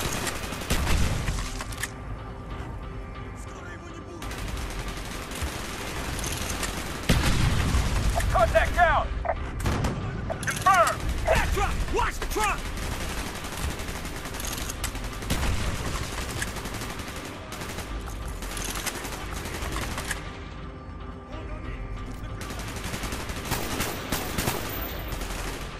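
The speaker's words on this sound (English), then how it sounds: "Gunfire's drawing attention." Gunfire in the video game Call of Duty: Black Ops: dense bursts of automatic fire and sharp shots with occasional booms, loud and nearly continuous, mixed with shouted voices.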